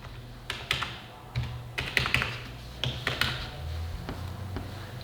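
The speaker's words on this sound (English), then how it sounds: "Then on line 57, you'll type in the sum of the loan" Typing on a computer keyboard, a scattering of crisp close key taps in irregular short clusters over a quiet background, with no talking.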